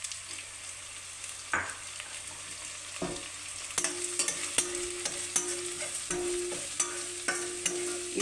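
A spoon scrapes and stirs through browned onions frying in a pan with coriander powder, sambar powder, chili powder and salt, a low sizzle running beneath the repeated close strokes. Nobody talks.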